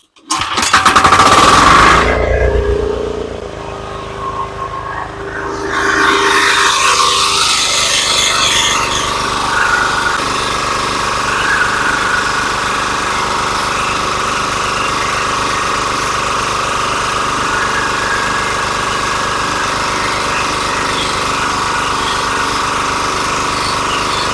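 A small walk-behind tractor engine, long unused, is pulled over and starts with a loud burst, then settles into a steady, close, continuous running drone at a potato planting in a Lviv-region garden.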